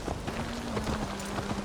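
Horses gallop in Assassin's Creed Valhalla, with steady, quick hoofbeats close by over a low tonal hum and busy game ambience.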